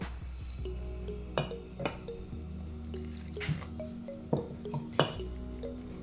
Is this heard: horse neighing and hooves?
no